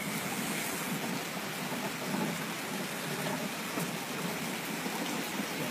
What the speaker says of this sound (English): This is the most absurd flooding I've ever seen in my entire life.